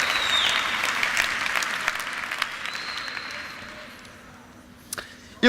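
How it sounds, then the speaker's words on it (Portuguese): An audience at a Lisbon talk event applauds a guest named Jorge: a broad wash of clapping that starts full and slowly thins and fades, ending in a few sharp knocks and a louder thump. "Uma salva de palmas aqui para o Jorge."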